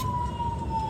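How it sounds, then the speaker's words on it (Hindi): A passing ambulance siren holds a steady wailing tone for a brief moment over a rumbling street background, moderately loud but not close. "एम्बुलेंस जा रही है"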